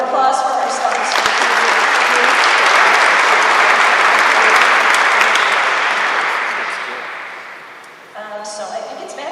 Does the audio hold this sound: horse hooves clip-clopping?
no